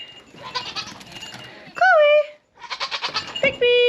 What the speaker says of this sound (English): Look at all the goats.